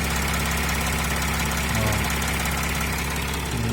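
A Mercedes-Benz Sprinter van engine idles close by, a loud, steady, even drone with no breaks, while someone speaks briefly over it.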